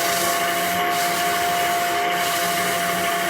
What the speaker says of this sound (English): Look how clogged up the abrasive gets with this oily teak